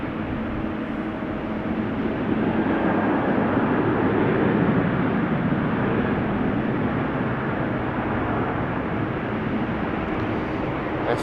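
Narrow-body jets taking off at Amsterdam Schiphol Airport make a steady, broad roar that holds evenly at moderate distance, with no voices.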